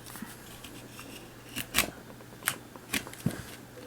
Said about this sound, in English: just cut off the top here, because that at least gives us just this piece to work with